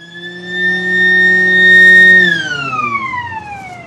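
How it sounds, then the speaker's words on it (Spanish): A short siren blast sounds at a gun test range just before a test firing, a steady rising tone that holds, then slides down in pitch as it fades, with no talk over it. "Breve toque de sirena."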